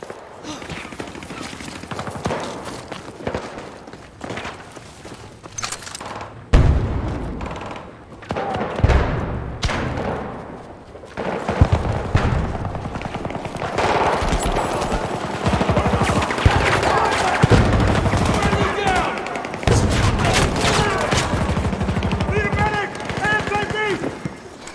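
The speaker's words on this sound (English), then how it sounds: "Who keeps shooting me? Oh, they're shooting me across there." Rapid gunfire from a Battlefield 2042 match crackles in dense bursts and sustained volleys, with heavy thuds of distant and nearby shots; a player's voice talks over the battle at times.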